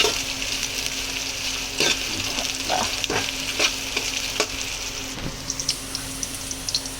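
Dried red chillies fry in oil for a chuduva snack, a continuous close sizzle broken by repeated scraping strokes of a spoon stirring the pan, with no voices.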